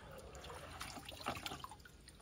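Water dripping and trickling off a Goldenmate ORION 1000 12V 100Ah LiFePO4 lithium battery as it is lifted from a bucket, quiet splashes and scattered drips close by.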